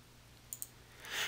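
Two quick, faint computer mouse clicks in close succession while working in Crystal Reports 2013, set against a quiet low hum, followed by a soft rustle.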